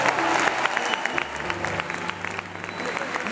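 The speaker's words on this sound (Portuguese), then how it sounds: "Uma salva de palmas para ele." Audience applause at a concert during the introduction of the band's musicians, a dense steady clapping from a live crowd that holds for several seconds and gradually eases off slightly.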